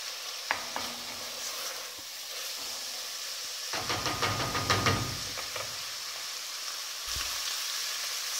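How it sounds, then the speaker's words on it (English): Spices frying in a pan, a soft steady sizzle and hiss with scraping stirring strokes and a burst of louder crackling partway through, close by and fairly quiet. "So I'm going to let this cook for maybe 5 minutes to let the spices mix up"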